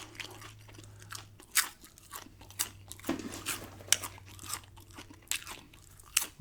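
Popcorn being eaten up close: crisp, irregular crunches and chewing bites in quick succession, with sharp loud crackles scattered among softer munching.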